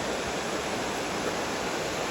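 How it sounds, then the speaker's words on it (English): A small waterfall beside a hiking trail rushes with a steady, broadband roar close at hand, continuous and unbroken throughout. "view of this small waterfall to the left of the trail"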